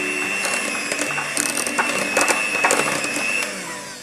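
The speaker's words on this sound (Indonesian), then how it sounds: "Kita akan mix aja dengan kecepatan rendah, yang penting kejunya tercampur ya." An electric mixer on low speed works grated cheese into kastengel cookie dough, a close, steady mechanical whir with rattling, ratchet-like clicks and uneven bursts as the beaters churn through the mix.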